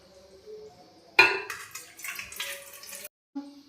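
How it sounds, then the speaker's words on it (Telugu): Water is poured into metal idli cooking vessels in a home kitchen: a sudden splash and clatter, then a few seconds of uneven splashing and clinking that stop abruptly. "ఇప్పుడు కొంచెం ఈ పాత్రలకు వాటర్ వేద్దాం"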